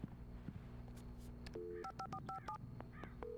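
Touch-tone keys beep on a phone at the sheriff station in the video game Alan Wake, a quick series of short dial tones in an uneven rhythm over a low ambient background.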